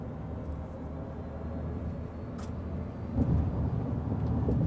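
Chevrolet Silverado EV 3WT, a 2024 electric work truck, accelerating on a highway, a steady broadband road and wind roar with low rumble that swells louder after about three seconds.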